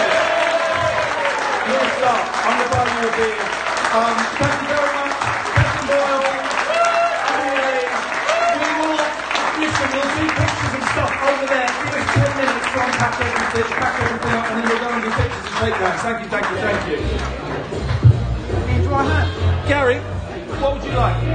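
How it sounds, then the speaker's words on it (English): Live stand-up comedy audience at a tour show in Luton applauding a performer named Gary, sustained dense clapping with crowd cheering and chatter throughout, with voices mixed in near the end. "Give Gary a round of applause."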